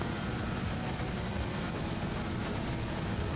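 BAe 146-300 four-engine jet airliner taking off in a flight simulator, a steady broadband engine roar with low rumble, constant and unbroken throughout.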